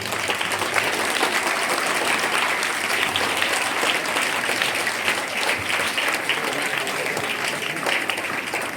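Steady applause from a crowd, dense clapping that holds at an even loudness throughout with no voices standing out.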